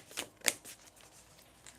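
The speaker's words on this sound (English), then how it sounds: "I'm going to shuffle to get some more messages for you." Tarot cards are shuffled by hand, a few quick soft riffles and flicks, close and quiet with no talk.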